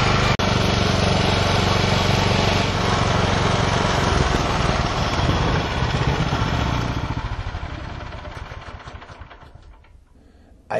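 A KM8 two-wheel tractor with a 13 hp Honda petrol engine runs loud and steady on open ground by a rough rocky path, its rattling drone gradually fading over the last few seconds before a sudden burst at the end.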